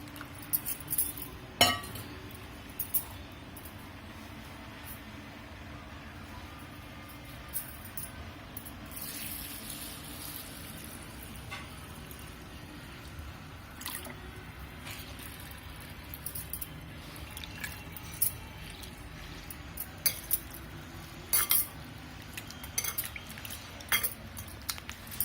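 Soaked dosa batter ingredients are swished and rinsed by hand in a bowl of water, with scattered clinks of the bowl and light splashes against a quiet background.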